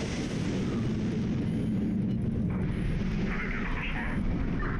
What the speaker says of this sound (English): I've got two KH-15s. They're in range. I'm going to fire them.